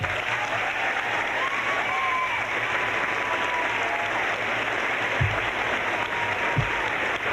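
Steady, sustained applause from a large lecture audience welcoming historian Howard Zinn onto the stage, dense clapping that continues evenly throughout without letting up.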